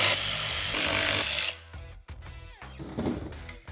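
A 13 millimeter tool works loose the four bolts holding a Can-Am X3 seat to its trolley slider system: a sustained loud broadband whir for about a second and a half, then scattered sharp metallic clicks and ratcheting knocks.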